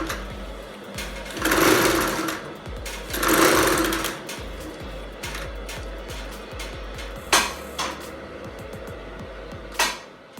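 A Two Lion TL-335A cylinder arm sewing machine runs in two loud, close bursts of rapid mechanical stitching, followed by quieter clicks and knocks of handling.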